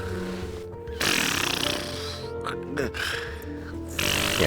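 A man in military barracks snores hard through his mouth, giving close, rough, rattling snores in two or three long pulses with a short catch between them.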